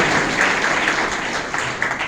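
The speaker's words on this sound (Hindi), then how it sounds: "एक बार जोरदार ताली बजाओ भैया" Audience at a state-level fisheries cooperative society conference claps steadily throughout, a dense, sustained round of applause filling the room with no voice on top.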